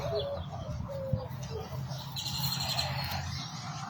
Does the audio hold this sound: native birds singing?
yes